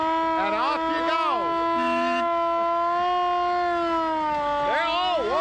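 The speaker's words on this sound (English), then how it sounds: "You got everything going, including the siren, the bell, and off you go." A loud siren on a tour vehicle in Stockton wails continuously, rising and falling in pitch, with voices and a brief tonal bell chime mixed over it.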